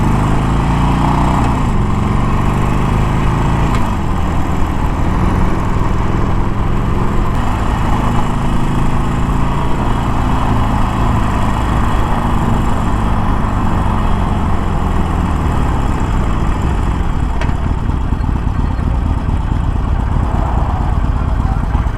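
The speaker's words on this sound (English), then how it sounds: "Cruising at Harley speed." A 2021 Harley-Davidson Iron Sportster 1200 motorcycle cruising at about 25 mph, its engine rumbling loud and steady with wind noise and slight shifts in pitch as it rides along.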